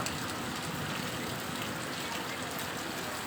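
Night rain falls in a steady, dense hiss that fills the whole clip, with an even wash of drops and no voices heard.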